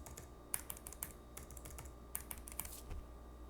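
Fingers type on a low-profile mechanical keyboard such as the Keychron K3, soft, quiet keystrokes in an uneven rhythm with a few sharper taps, heard close and alone.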